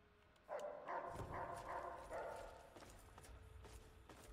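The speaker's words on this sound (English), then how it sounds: "The dog do be barking at me" Several quick dog barks in the video game Fallout 3, close and fairly loud, coming in a short burst over roughly two seconds before trailing off into low background noise.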